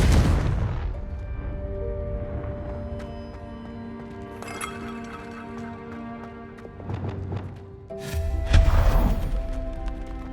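A Confringo fire spell detonates in Hogwarts Legacy: several loud, booming blasts with crackling tails break over a sustained orchestral score, the heaviest burst landing near the end.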